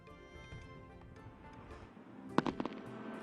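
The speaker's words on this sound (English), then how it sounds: "the explosive symphony of fireworks unites the nation during Chinese New Year" Fireworks go off during a Chinese New Year celebration: a low rumbling background builds into a cluster of sharp, close crackling bangs near the end.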